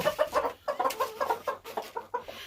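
Backyard hens clucking close by in a steady run of short, bouncy cackles, with no voices.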